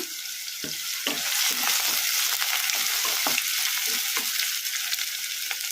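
Chopped onion and green chilies sizzle and fry steadily in hot oil with mustard seeds and cumin on a medium flame, with a continuous loud hiss broken by occasional stirring clinks, and no voices.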